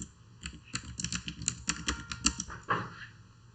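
Rapid typing on a computer keyboard, a steady run of close, crisp key clicks with uneven rhythm and a few louder strokes, heard alone without talk.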